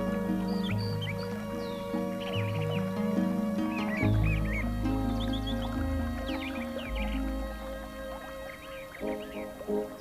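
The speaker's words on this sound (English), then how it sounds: "the elegant trumpeter swan, one of the nation's rarest birds" Honking, nasal bird calls from a trumpeter swan by a river in Yellowstone National Park, repeated over a low sustained musical backdrop, moderately loud and without talking.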